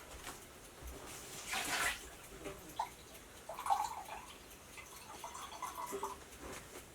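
Water is poured into a pot of rhubarb, giving a soft, quiet splash and trickle with a few small drips and gurgles afterwards.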